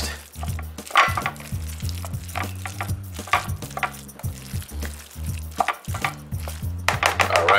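Tuna salad with Greek yogurt being stirred in a bowl: steady clattering and scraping of a utensil against the dish in a busy, irregular rhythm, up close with no talking.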